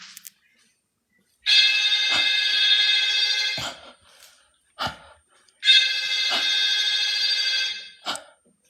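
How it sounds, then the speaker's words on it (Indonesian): A telephone rings inside a glass house during a horror exploration. Two long, shrill ring bursts of about two seconds each are separated by a pause, with faint thumps and short noises in between. "Kok ada suara telepon coy?"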